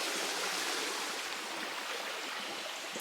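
Steady broadband rush of runoff water pouring from a pipe into a river, a continuous close hiss with no talking.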